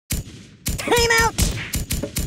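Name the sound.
gunfire from firearms in video game Kick The Buddy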